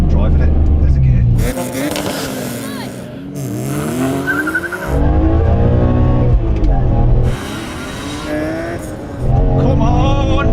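BMW M3 with a manual gearbox launching hard in a drag race: loud engine revving and accelerating with gear changes, tire squeal, up close, with a person talking excitedly over it.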